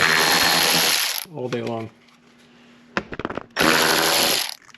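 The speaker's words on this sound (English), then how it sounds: "Again, power tools" A power tool removes bolts from the lower timing cover of an Audi Q5 2.0T, whirring in loud bursts with a ratcheting rattle, pausing between runs while a voice speaks briefly in the gap.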